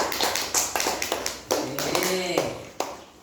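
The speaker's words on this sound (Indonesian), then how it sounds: "Kasih tepuk tangan dulu." Brief classroom applause from a group of students, a short burst of quick, sharp claps close by, mixed with a teacher's voice speaking over it.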